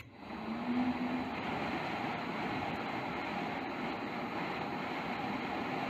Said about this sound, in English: Blower actually works. I can hear it like revving.